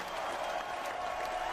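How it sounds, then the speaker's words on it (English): An audience at a Fire Service Day honorary fire chief ceremony gives sustained, steady applause, a dense wash of clapping from a crowd filling the whole moment. "Where's the applause? There it is."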